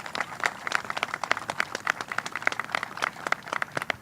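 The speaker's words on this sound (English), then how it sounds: "Let's give them a round of applause" Applause from an audience at a hotel grand opening ceremony, steady scattered clapping at moderate distance, fairly faint and without voices over it.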